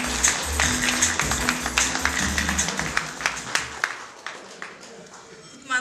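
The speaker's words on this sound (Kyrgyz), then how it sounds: "меймандар шаңдыра кол чабыңыздар" Wedding guests clap in a scattered, fairly distant patter of applause that rises and fades unevenly while a voice talks over it.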